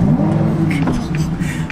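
A car engine runs and revs with a steady low drone rising in pitch, close and loud, with people talking over it.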